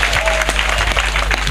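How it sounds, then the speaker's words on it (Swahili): Brief, dense applause from an assembly crowd celebrating the employment of early childhood teachers in Makueni. Many hands clap loudly and close for under two seconds, with no voices over it. "Tumpigieni makofi."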